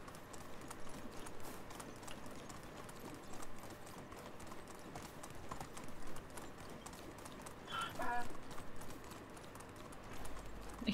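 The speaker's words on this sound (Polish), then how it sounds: "I ten galop na tym biednym ośle i dźwięki zamiast osła to konia." Hooves clop rhythmically as a donkey gallops, voiced with horse sounds, in the medieval life-simulation game Medieval Dynasty. Steady, fairly quiet hoofbeats continue throughout, with a short bright chime midway.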